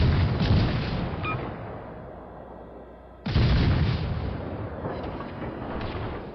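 HMS Plymouth's guns fire in the naval game World of Warships Legends: two heavy booming salvos, each rumbling and slowly fading before the next, loud and close, with no speech.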